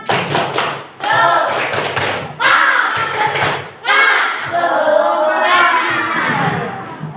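A group claps in a quick patterned rhythm, bursts of loud hand claps separated by brief pauses, with voices shouting along.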